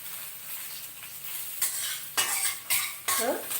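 Curry leaves hit hot oil for rasam, giving a sizzle that swells in several sharp bursts, each with the clatter of a stirring spoon against the pan.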